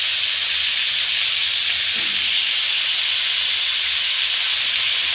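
Potatoes frying in oil in a pan, a loud constant hiss of sizzling fat without break, no voices.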